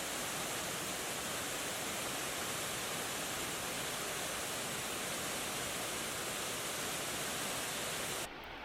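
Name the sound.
Ganoga Falls waterfall, 94 feet high, Ricketts Glen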